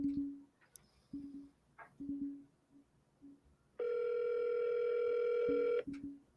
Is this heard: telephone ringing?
yes